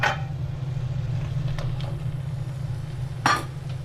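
Pointed gourd (potol) frying in a pan with prawns under a low steady sizzle, with a few brief scraping stirs of a utensil against the pan, nearby and fairly quiet.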